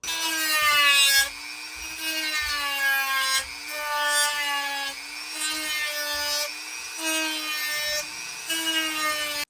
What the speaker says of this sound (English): Now we're going to use the Dremel to get right up to that line and leave that edge.